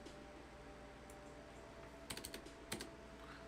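Keys clatter on a computer keyboard in a few quick, faint bursts of clicks, set against a quiet room hum, while a lecture is being prepared.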